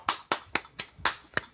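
A talk show audience claps to welcome a guest, sounding as a short run of about seven evenly spaced, crisp claps, fairly soft and with no talk over them.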